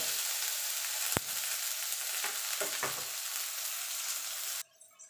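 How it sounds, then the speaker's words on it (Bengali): Eggplant and potato pieces fry in hot oil for a mourala fish and vegetable dish. A loud, steady sizzle is interrupted by one sharp click and then drops off suddenly near the end. "বেগুনটা এইভাবে আলাদা একটু ভেজে নেবেন, তাহলে বেগুনটা একদম গোটা গোটা থাকবে।"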